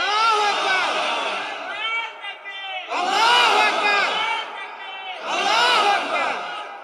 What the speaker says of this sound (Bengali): দেন না স্লোগান, দেন একজন শুরু করেন।